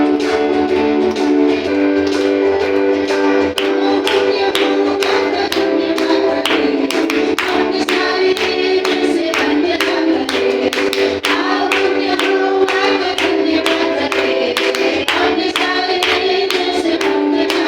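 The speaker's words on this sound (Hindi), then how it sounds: "आए हम सब मिलकर ताली बजाते हुए परमेश्वर की आराधना को गाएंगे।" Steady, rhythmic hand clapping from a worship congregation keeps time with loud sung music throughout, sharp regular claps layered over voices and instruments.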